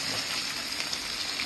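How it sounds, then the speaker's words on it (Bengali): Catla fish pieces deep-frying in plenty of hot oil, a dense continuous hiss and sizzle, close and even, with no voices. "দারুণ দারুণ ভাজা চলছে।"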